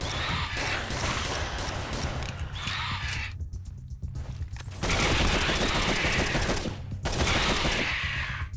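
Rapid, continuous pistol gunfire from the Halo-style sidearm in the PSP shooter N.O.V.A., loud and dense in two long bursts separated by a brief lull, with no talking.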